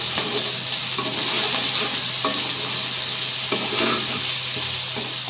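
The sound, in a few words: frying in a pan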